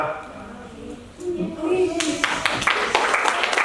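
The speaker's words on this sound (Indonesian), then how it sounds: "tepuk tangan ya" A classroom of children claps together during a computational thinking and coding lesson, a short burst of rapid claps that starts partway in after a teacher's voice.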